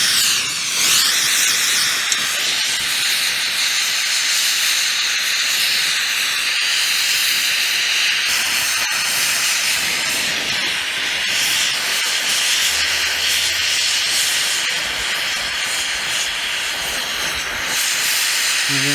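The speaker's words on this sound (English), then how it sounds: "This hydrogen torch can also do something called propane gas modification, which is where I inject propane into the flame." Hydrogen torch flame with propane injected into it, used on a tree stump: a loud, steady roaring hiss that holds for the whole stretch with only slight wavering, no voices.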